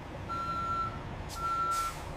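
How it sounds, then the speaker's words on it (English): A truck backing up to dock against a factory building, its reversing alarm sounding two steady beeps over a low engine rumble. "Precision docking seals the truck against the building, preventing temperature loss during unloading."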